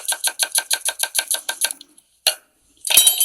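A knife julienning an onion on a cutting board for salsa: a quick, even run of about a dozen sharp, close chopping taps, a short pause, then one more cut and a louder clatter at the end.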